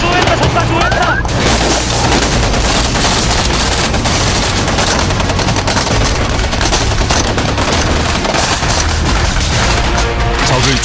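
Dense, continuous gunfire with booming blasts fills an Army combat training exercise in a Korean forest, loud and sustained throughout, with a narrating voice underneath.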